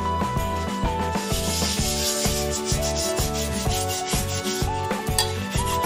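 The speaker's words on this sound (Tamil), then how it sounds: "எல்லா பக்கமும் நல்லா தேய்ச்சு கழுவிடுங்க நல்லா இந்த இடுக்கெல்லாம் நல்லா தேய்ச்சு" Steady, rhythmic scrubbing strokes as a cast iron pan is washed and rubbed on all sides with salt, close up, running under continuous background music with no talk.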